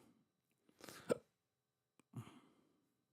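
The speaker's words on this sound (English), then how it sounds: "Bad hiccups." A person hiccups, two distinct hiccups about a second apart in a quiet room, close and fairly soft with a short breathy tail after each.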